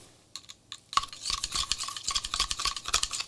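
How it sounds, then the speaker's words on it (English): Liquitex Professional matte varnish, thin and runny, stirred with a stick in its container: a quick series of close, crisp taps and clicks after a couple of sparse knocks, soft and intimate. "So I'm just stirring it with a stick."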